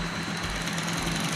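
A sewing machine stitches fabric backed with buckram for a V-neck collar, a close steady mechanical whirr with a fast, even rhythm, heard briefly on its own.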